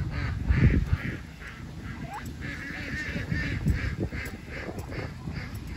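Geese and ducks on a Canadian farm honk and quack in a loose, irregular chorus at moderate distance, with scattered overlapping calls and a soft outdoor background.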